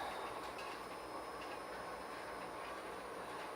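Silkon 48-inch ceiling fan running on high in reverse, giving a steady, faint whooshing drone with a low rumble and no speech.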